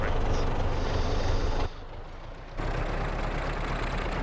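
A tractor engine idles in Farming Simulator, a steady low rumble that drops off briefly and then resumes at the same level, with no talking.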